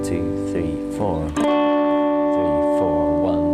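Strummed guitar chords from a chord progression, a run of rhythmic strokes and then one chord left ringing, heard up close with a voice counting along.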